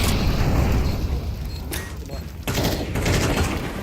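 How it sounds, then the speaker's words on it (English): Flashbang grenade thrown and exploding in Counter-Strike 2, loud sharp bursts cutting through a dense, continuous barrage of gunfire and booming over a few seconds. "Throwing a flashbang."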